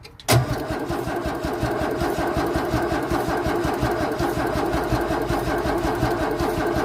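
A 1964 Holden EH ute engine cranks steadily on choke without catching, a continuous rhythmic starter churn running loud and close for several seconds after a brief start.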